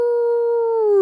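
A narrator's voice imitates a long wolf howl, one steady sustained tone held for about a second that slides slightly downward at the end.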